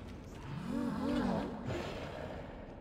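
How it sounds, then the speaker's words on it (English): Raspy, throaty breathing from a lurking enemy in the 2008 video game Dead Space, a few moderately quiet rasping breaths swelling and fading over a low background drone. "I hear him breathing."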